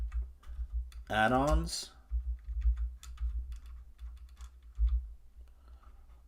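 Quick, scattered keystrokes on a computer keyboard as a search for Kodi is typed, light clicks running beneath a talking voice throughout.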